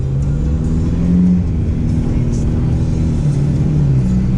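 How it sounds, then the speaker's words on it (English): Cars accelerate in a drag race between friends on a road trip. A loud, close engine drone rises and dips in pitch as the revs change, with no break in the sound. "Drag race between the boys."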